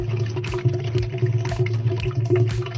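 Coca-Cola glugging out of a jar that holds a soaked sponge, an uneven stream of liquid splashing with repeated gurgling surges, close and fairly loud.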